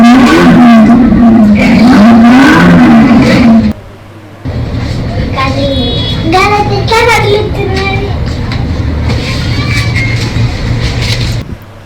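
A child's toy ride-on motorcycle at a Sunday market plays loud electronic engine and revving effects when the child sits on it, with a short break partway through and voices talking alongside.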